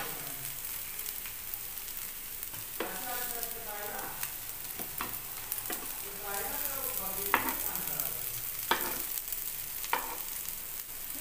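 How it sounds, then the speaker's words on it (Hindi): Potato rolls frying on a hot tawa, a steady close sizzle with repeated crackles and spatters as they are pressed and turned. "इस तरह से हम दबाते हुए अपने सारे आलूओं के रोल को फ्राई करेंगे।"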